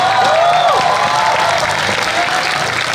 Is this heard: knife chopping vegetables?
no